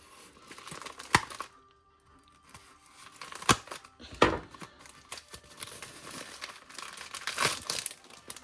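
Crinkly plastic packaging on trading card packs is torn and unwrapped up close, coming in irregular bursts of crackle and rustle separated by brief pauses.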